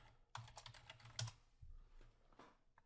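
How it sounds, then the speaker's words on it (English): Typing on a computer keyboard, a short run of quiet, close key clicks in an uneven rhythm with brief pauses between taps. "we're going to type in Cuisinart juicer"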